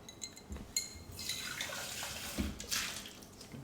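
Running water splashes and gurgles into a sink as a metal cocktail shaker tin is rinsed, the flow swelling and shifting in a few bursts over several seconds with no voices.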